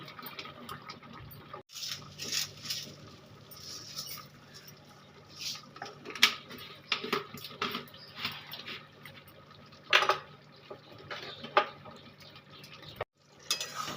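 Mung dal dish being stirred in a pan with poppy seeds and a little sugar, giving soft scraping and clinking spoon strokes at an irregular pace, close by, with brief pauses and no talking.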